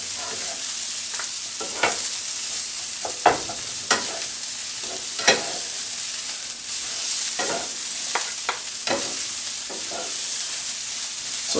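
Utensil scraping and stirring fried rice in a hot pan over medium heat, with steady sizzling underneath and scattered sharp clicks of metal against the pan.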